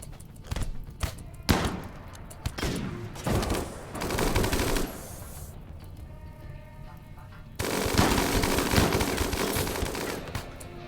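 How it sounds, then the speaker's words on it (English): Gunfire volleys in RimWorld, with clustered automatic bursts and single shots crackling in irregular groups, then a sustained loud rattle of combined fire near the end. "That was a good volley."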